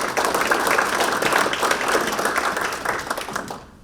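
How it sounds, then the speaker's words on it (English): Morning forum audience applauding a presenter, a dense steady wash of clapping from many hands that fades out at the end. "let's give a round of applause for Dr. Stephenson"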